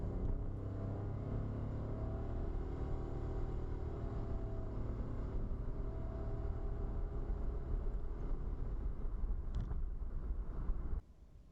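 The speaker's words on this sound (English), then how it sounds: "here comes a car" A car driving along a road at evening, heard as a steady, loud low rumble with wind buffeting the microphone, holding level for most of the stretch before dropping off abruptly near the end.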